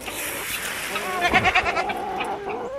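Goats bleat on a farm, with several short, wavering bleats clustered near and loud in the middle of a brief moment, then fading into quieter calls.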